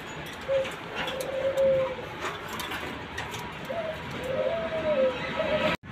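Giribaj and Rajgolla pigeons coo at a farm in Shajahanpur, soft repeated rolling coos in several bursts over a noisy, hissy background.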